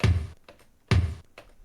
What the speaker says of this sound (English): there are drums which are operated by foot pedal, and that's usually called the kick drum or bass drum